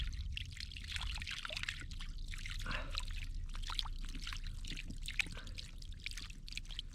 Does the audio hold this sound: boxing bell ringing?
no